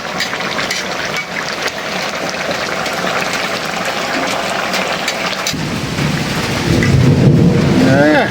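Thunder rolls in a long, deep rumble over a steady wash of rain on surfaces, swelling louder toward the end with no pauses.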